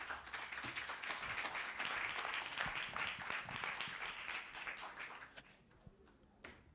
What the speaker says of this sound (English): Can we give our ambassador all the way from France another round of applause, please?